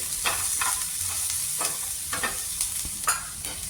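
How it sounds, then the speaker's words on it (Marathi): Masala roasting in a pan for a green pea curry, with a continuous close sizzle broken by regular scraping strokes of a spatula stirring the mixture, and no voices. "आताच आपण थोडासा लाल कलर येईपर्यंत भाजून घेऊ"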